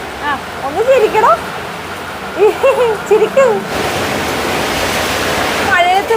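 Heavy rain pours steadily as a wide hiss, with people talking and laughing over it at first, then the downpour continues on its own, loud and close.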